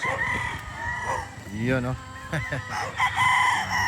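Roosters and hens at a gamefowl yard in the afternoon, with a rooster crowing and birds clucking while someone talks over them.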